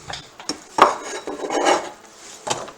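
A large onion lands in a pan with a few knocks and scrapes of utensils against the cookware, close and fairly loud, with no voices.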